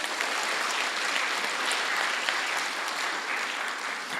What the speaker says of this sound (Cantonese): 佢哋一個鼓勵嘅掌聲